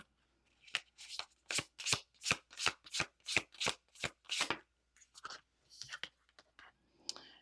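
Tarot cards riffle-shuffled in a steady run of about a dozen crisp, close bursts, followed by softer irregular card handling and light taps, with no talking.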